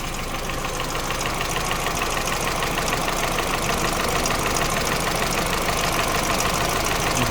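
A Peugeot 207cc petrol engine idles in a salvage car being repaired, a steady, rapid mechanical chatter and hum that holds an even rhythm throughout, fairly near and without talk.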